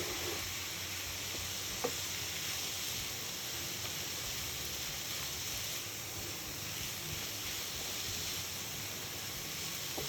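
Spring roll filling thickened with cornstarch-based soup powder is stirred in a pan and gives off a steady, even sizzle with a faint hiss. The sound stays soft and constant, with one brief tap of the utensil.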